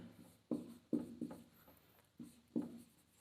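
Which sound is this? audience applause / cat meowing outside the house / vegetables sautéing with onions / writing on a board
writing on a board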